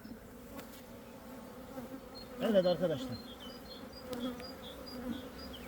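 Honeybees buzz steadily around an open hive in Ordu, a low continuous hum with a louder swell near the middle, while someone speaks briefly.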